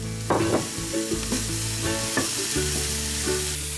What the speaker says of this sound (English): I'm going to cook the onions until they are translucent.